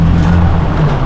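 A truck roars loudly and close by in a brief, heavy burst of engine rumble on a mountain course.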